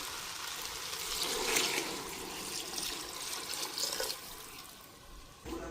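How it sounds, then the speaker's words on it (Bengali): Water runs steadily into a large cooking pot for thin khichuri with beef, a continuous splashing rush that shifts in tone as the pot fills, heard close with no talking. "তো এদিক দিয়ে পাতিলা ভরে পানি দিয়েছি"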